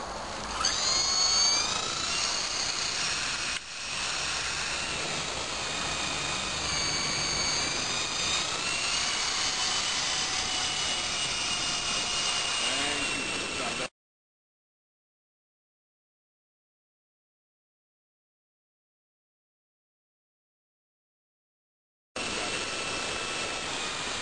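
An E-flite 120 SR radio-controlled helicopter flies close by with a high, whining rotor and motor buzz that wavers in pitch, cuts to total silence for several seconds, then returns briefly.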